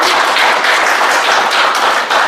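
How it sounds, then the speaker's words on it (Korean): An audience claps for a speaker at a speech event. The applause is loud and dense, with sustained crowd clapping right up close that fills the whole stretch at an even level. "박수 한번 주십시오"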